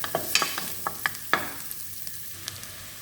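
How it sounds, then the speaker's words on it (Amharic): Chopped onions frying in a little olive oil for soup, a soft sizzle with several sharp spoon taps and scraping stirs against the pan, close and fairly quiet. "ትንሽ ኦሊቭ ኦይል እናረግና ሽንኩርታችንን እንጨምራለን።"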